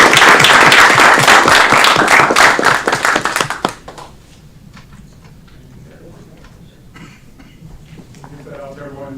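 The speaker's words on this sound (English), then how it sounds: "Let's give her another round of applause." A room at a city committee meeting fills with loud, dense clapping that cuts off sharply after a few seconds, leaving quiet room tone with a few faint stray sounds.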